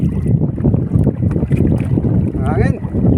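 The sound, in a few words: small rowing boat moving on water in wind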